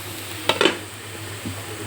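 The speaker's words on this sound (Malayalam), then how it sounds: "ഇത് ഗോൾഡൻ ബ്രൗൺ ആകുന്നത് വരെ വറുക്കട്ടെ." Frying in a pan for chicken dum biryani gives a steady low sizzle, with a couple of sharp stirring scrapes of a utensil against the pan near the middle.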